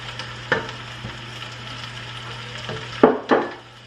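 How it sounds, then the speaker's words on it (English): Cut potatoes get stirred through hot bacon grease in a pan, a low frying sizzle broken by a few scraping, clattering strokes of the spoon, with the last two knocks coming close together near the end. "I am just going to coat those real good in this bacon grease so they get that flavor"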